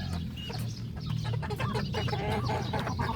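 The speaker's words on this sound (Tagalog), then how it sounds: "meron na pala dyan tumitilaok" A rooster in a backyard clucks and crows loudly and close, with other fowl calling over a dense steady chatter of chickens.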